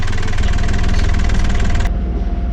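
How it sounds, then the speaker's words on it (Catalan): A boat's diesel engine runs steadily after its fuel was cleaned and filter changed, a loud, close, rhythmic low chugging that shifts to a smoother tone near the end, with no talking. "Estem provant el motor"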